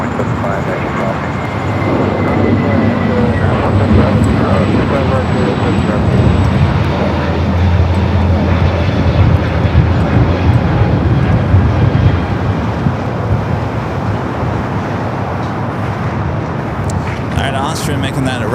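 An Austrian Airlines Boeing 747-8 Intercontinental taxis at LAX, a steady broad engine rumble and whine holding for the whole stretch, with faint radio-style chatter now and then.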